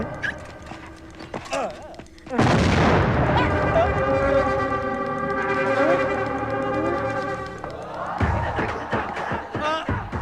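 Bomb explosions in a Telugu comedy film scene: a sudden loud blast about two seconds in, followed by a long rumbling roar, then a second sharp burst near the end, with no speech.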